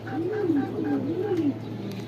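Pigeons coo in a rooftop loft in a soft, rolling series of throaty calls, close by, with a low steady hum in the background.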